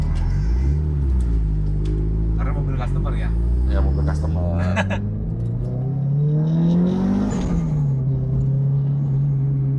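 Turbocharged Subaru hatchback with a full body kit, its engine revving up and down in rising and falling sweeps at close range, with people talking over the engine.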